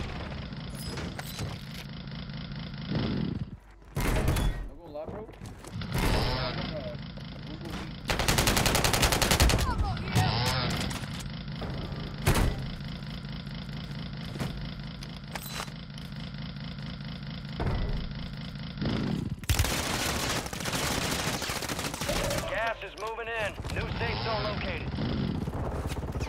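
Rapid bursts of automatic gunfire from a Call of Duty match ring out over a looping game engine drone, with excited players talking and shouting throughout.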